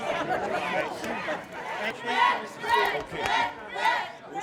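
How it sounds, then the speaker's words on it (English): Crowd of fans shouting and chattering close by backstage at a country music concert, rhythmic chant-like bursts rising and falling in waves, with voices mixed in. "Cheer loud, Doc."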